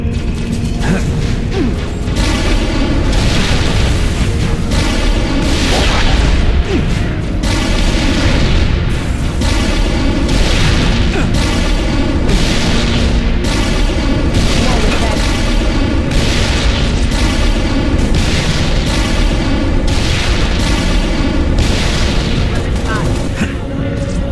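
Constant weapon fire and booming explosions from a Halo Reach battle, a dense, loud, unbroken barrage with rhythmic bursts, voices calling out over it.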